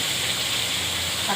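Chicken meat goes into a hot pan and sizzles with a steady, broad hiss that holds at an even level throughout.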